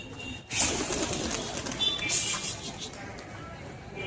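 Pigeons at a rooftop loft in Khulna, Bangladesh, with soft cooing and bird calls over a steady outdoor ambience, a burst of wing or movement noise early on, and faint background voices.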